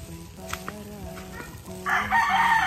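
A rooster crows among many chickens in a rural spot by a river in Sariaya, Quezon, with a long clear crow, scattered clucks around it, and louder outdoor noise and voices near the end.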